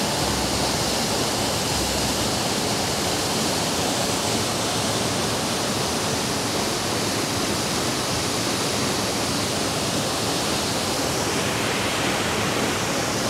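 A powerful waterfall roars continuously and loudly, a dense unbroken rush of falling water close by that fills the whole scene, with no voices or other sounds over it.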